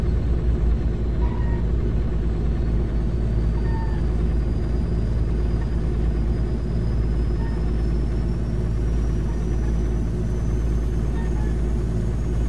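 A Volvo truck hauling a heavy load in Euro Truck Simulator 2 strains with a loud, constant low engine rumble and a faint rising whine, droning steadily without a break.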